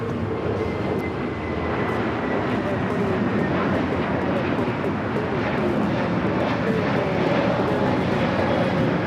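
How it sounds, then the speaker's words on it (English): Frontier Airbus A321neo jet taking off from LAX bound for Salt Lake City, a continuous loud engine roar and broadband rush holding steady throughout, with no talk. "That's Frontier 4130 taking off to Salt Lake City on the A321 Neo"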